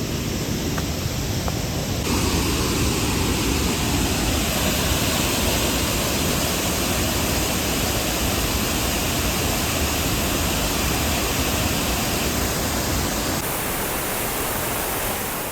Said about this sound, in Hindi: नीचे एक नेचुरल ब्लू पूल और उसमें गिरता हुआ ये झरना